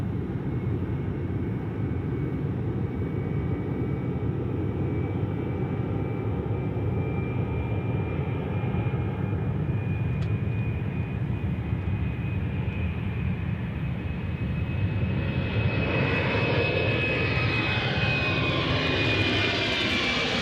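A jet airliner's engines roar steadily at an airport during plane spotting, a loud, continuous drone with a rising whine that swells near the end as the aircraft powers up, with no one talking.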